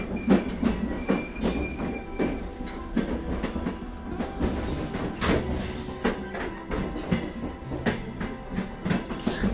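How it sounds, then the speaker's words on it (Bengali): A passenger train running through the Chilka lake area in Odisha, wheels clattering in a steady rhythmic clickety-clack with rumbling carriage noise and occasional wheel squeal, loud and continuous throughout. "আমাদের ট্রেন কিন্তু বেশ কিছুটা দেরিতে চলছে"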